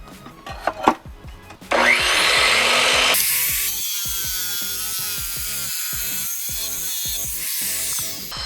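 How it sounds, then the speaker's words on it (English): An electric tile saw cuts through stacked quartz, starting with a few knocks, then a loud grinding burst that settles into a steady high motor whine with a rhythmic pulsing underneath. "We'll cut some stacked quartz."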